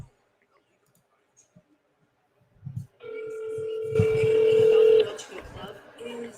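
A telephone dials out to place a call, with a few soft clicks followed by a steady electronic tone lasting about two seconds. A brief burst of mixed noise comes next.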